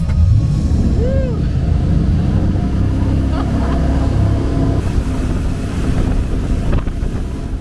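A loud jet boat engine roars up close under heavy wind buffeting on the Rogue River in Oregon, water rushing past as the vessel speeds up toward 50 miles an hour.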